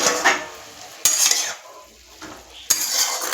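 A metal lid clatters onto a cooking pot of amaranth greens steaming on the stove, with a few sharp clanks and utensil scrapes over a faint hiss, close by and with no talk.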